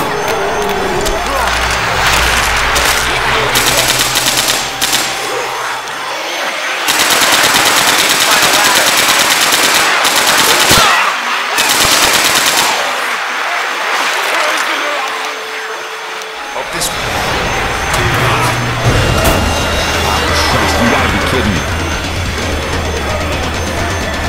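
Loud, sustained machine gun fire in Left 4 Dead 2, with long continuous bursts and brief pauses amid dense game noise. Short gaps break the firing before it resumes near the end.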